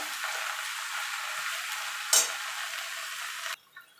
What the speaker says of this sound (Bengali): মিনিট খানেক আমি একটু ভাজা ভাজা করে নেব।